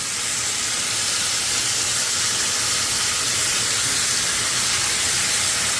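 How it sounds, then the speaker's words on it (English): Diced tomatoes hit a hot cast iron pan, giving a loud, steady steaming hiss that holds evenly throughout with no talking. "Now we are going to add whatever kind of diced tomatoes you want."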